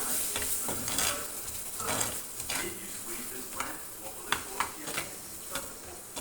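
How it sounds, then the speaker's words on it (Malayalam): A spoon stirs a sizzling ginger curry, a Kerala sadya-style inji curry, just after tamarind water goes into the hot pan: repeated scraping strokes against the pot over a continuous hiss and bubbling, close and fairly loud. "ഇനി ഇതിലേക്ക് നമ്മൾ എടുത്ത് വെച്ചിരിക്കുന്ന പുളിവെള്ളം ചേർത്ത് കൊടുക്കുക എല്ലാം കൂടെ നന്നായി ഒന്ന് മിക്സ് ചെയ്യാം"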